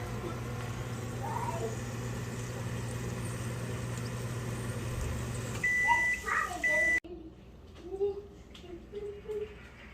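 A microwave oven gives a few short, clear beeps in quick succession over a steady background hum.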